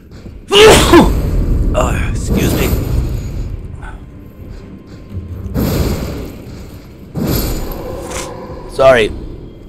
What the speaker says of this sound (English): sorry, I sneezed right in there.